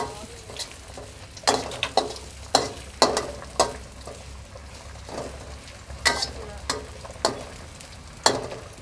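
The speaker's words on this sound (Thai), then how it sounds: "เจียวกระเทียมอะคะ เจียวหรือผัด เจียว กระเทียม" Garlic fries in a very hot pan: a constant sizzle broken by loud, irregular knocks and scrapes of a utensil stirring against the pan.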